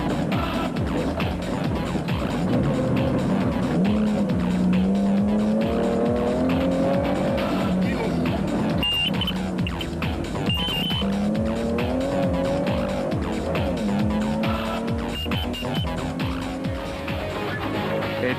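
Off-road race vehicles, a Nissan among them, at the Carnival City 400 in 2007: loud engines rev and howl continuously with rising and falling pitch as they accelerate, shift and pass, and tyres skid on the loose track.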